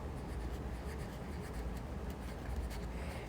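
Pen or pencil scratching steadily across paper while writing math notes, a continuous soft rubbing texture close by with no talk.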